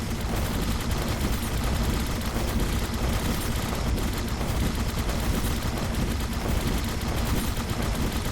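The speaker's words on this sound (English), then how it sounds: "he's clearly just pumping off this shotgun, and it's just massive damage wave out here" Rapid, continuous shotgun blasts from a mech in the Mech Fortress video game, loud and dense with overlapping shots and battle noise throughout, no pauses.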